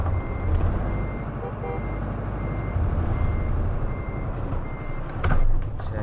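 A Mack Pinnacle 8x4 truck reverses in American Truck Simulator, its backup alarm beeping steadily and clearly over a low diesel engine rumble, with a brief hiss of air brakes near the end.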